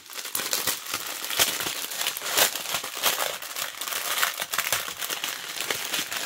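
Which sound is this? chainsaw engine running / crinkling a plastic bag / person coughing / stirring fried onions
crinkling a plastic bag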